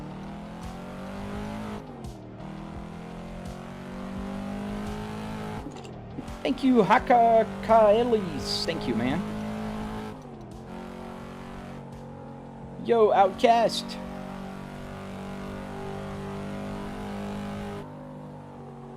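Simulated car engine in Assetto Corsa, a steady droning hum with rising and falling revs and two louder bursts of acceleration, heard under someone talking throughout.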